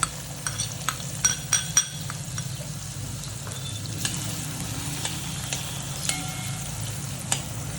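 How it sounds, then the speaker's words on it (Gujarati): Onions fry on low heat in a pan for a rajma curry, a steady soft sizzle under a few light spoon taps and scrapes, closer and busier at the start. "ડુંગળીને લાઇટ પિંક કલરની થાય ત્યાં સુધી આપણે ધીમા તાપે કૂક કરીશું."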